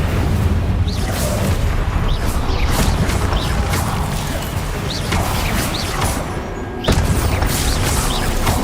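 In the video game Hogwarts Legacy, the Incendio fire spell is cast amid dense, loud combat noise, with rumbling bursts, crashes and impacts throughout and a sharp blast near the end.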